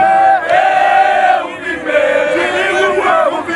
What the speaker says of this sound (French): il s'est offert un bain de foule, des milliers de militants des partis politiques qui l'ont contraint de marcher à pied